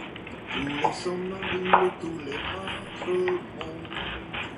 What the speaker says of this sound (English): Before we melt the butter into the pan, we're going to cut up our onions.